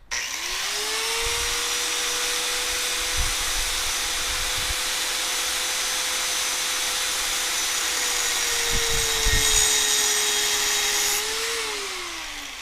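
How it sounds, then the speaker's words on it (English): An angle grinder runs steadily on a 1986 Chevy Caprice coupe, its high whine holding level for about ten seconds with brief scraping bursts as it scores the sheet metal, then winding down near the end. "I don't have a chop saw, so I'll just be using an angle grinder to cut this all out in there."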